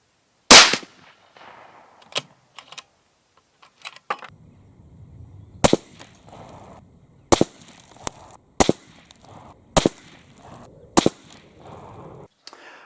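Sharp, loud rifle shots from a Mossberg Patriot Tactical in 6.5 Creedmoor ring out one at a time at irregular intervals, about nine reports, each with a brief echo tail and quiet gaps between.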